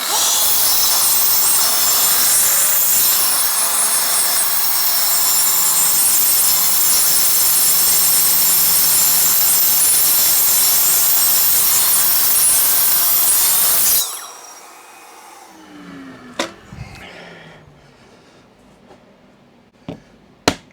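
A power saw cuts into wood during carpentry and locksmithing work, a loud sustained grinding rasp for about fourteen seconds, then stops abruptly, followed by a few sharp knocks and clatters.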